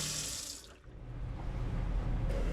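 Running water from a repaired tap aboard a sailboat, a steady close rushing and splashing that briefly dips and then pours on strongly and evenly.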